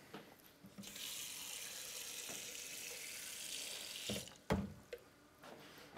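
Water runs steadily from a tap into a container for a green smoothie of frozen cucumber, pineapple and celery, a continuous hiss that stops and is followed by a few knocks and clunks.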